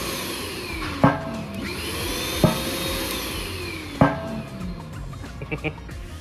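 A vacuum pump on a DIY CNC mist collector whines continuously with shifting pitch, interrupted by three sharp knocks at regular intervals and a few faint clicks near the end.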